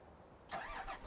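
Tractor engine in a farming game cranking and catching after a quiet moment, then settling into a low mid-pitched idle, close and moderately loud, no talking.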